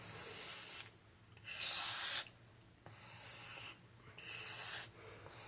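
A steel knife blade is drawn across a sharpening stone in about five long, gritty rasping strokes with short pauses between them, close and clear with no voices.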